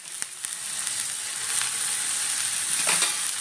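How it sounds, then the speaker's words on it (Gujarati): Mustard seeds, asafoetida and turmeric sizzle in hot oil, a steady bright hiss with a few small pops and crackles, close and continuous with no talking. "તેલ ગરમ થઈ ગયું છે. થોડીક રાઈ, હિંગ અને હળદ."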